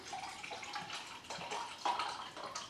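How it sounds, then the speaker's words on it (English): Water pours into a drinking glass in a home kitchen, a soft, irregular splashing and trickling stream with brief surges, fairly close and alone. "you get some water and you fill a glass up"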